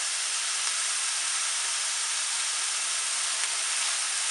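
Onions cooking in a hot pan, giving a loud, even hiss of sizzling that holds steady throughout with barely any change in level and no voices.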